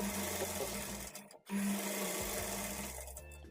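A sewing machine stitches a blouse at a half-inch margin, a close, loud, steady whirring run that halts for a split second and then resumes.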